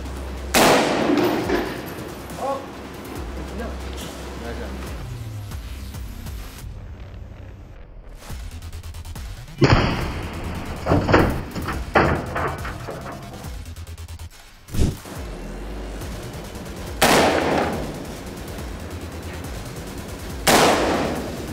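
A .308 7.62 rifle fires a series of rounds into an armored vehicle door at a test range, producing loud, sharp cracks and metallic impacts with pauses of several seconds between them.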